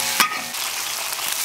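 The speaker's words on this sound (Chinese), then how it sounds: "一把干辣椒下去" A handful of dried chilies hitting hot oil in a wok with bean paste, a sharp burst followed by a steady loud sizzle and frying hiss, close and continuous with no voices.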